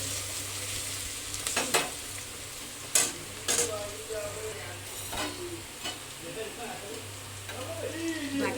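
Garlic paste frying in a pan for chicken curry, a steady close sizzle broken by repeated scraping stirs of a utensil, fairly quiet, with a low hum underneath and occasional faint voices.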